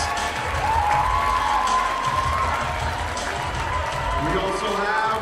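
An audience at a bikini fitness contest applauds and cheers the women onstage, a dense, loud wash of clapping and shouts that holds steady for several seconds while an announcer talks over it.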